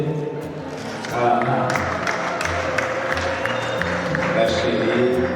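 Applause and cheering from a crowd at a Rwandan wedding, building suddenly after a quieter opening and carrying on steadily, dense and fairly close, with voices mixed into the clapping.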